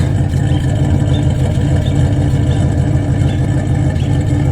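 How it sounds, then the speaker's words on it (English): A 1972 Oldsmobile Cutlass convertible engine idles steadily through its stock single exhaust and stock muffler, with a low, constant exhaust rumble, close and loud, with no talking. "maybe you can hear the exhaust"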